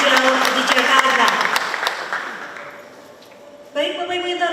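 Audience applause at a Jakarta government launch event for green building implementation, dense clapping that fades over a few seconds before a brief swell returns, mixed with voices.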